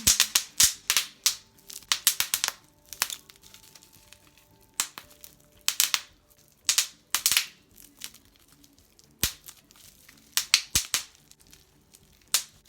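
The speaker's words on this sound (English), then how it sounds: "Let's just get some satisfying bubble wrap in there." Bubble wrap popping in irregular bursts of sharp crackling snaps, some single pops and some quick clusters, close and loud with quiet gaps between.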